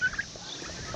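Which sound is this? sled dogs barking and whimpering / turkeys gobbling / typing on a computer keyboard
turkeys gobbling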